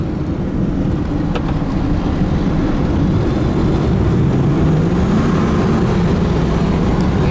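A 1989 Ford F-350 XLT Lariat 4x4 crew cab pickup with a four-speed overdrive cruises in overdrive, giving a steady, close engine and road drone that runs unbroken with no talking.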